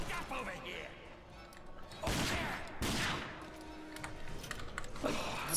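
Gunfire in the video game Fallout 4, with two loud broadband bursts standing out over a busy background of game sound, while voices are heard around them.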